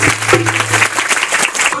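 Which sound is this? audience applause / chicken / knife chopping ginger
audience applause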